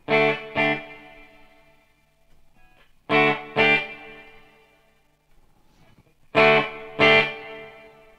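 Guitar notes played through a Walrus Audio Descent reverb pedal set to its least diffusion ring out in three pairs of sharp plucked attacks, each decaying quickly with a short, tight tail and near silence between.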